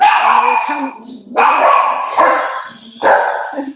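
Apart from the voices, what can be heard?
dogs barking at a cat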